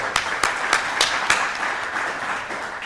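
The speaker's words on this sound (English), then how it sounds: "Let's give all these folks a round of applause" Audience applause at a Rotary Club meeting, a steady wash of clapping from a roomful of people with a few sharper individual claps standing out early, moderately loud and without talk.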